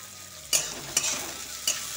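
Chicken cooking in a pan with onions, a continuous close sizzle with three sharp scraping stirs of a utensil spaced across the moment.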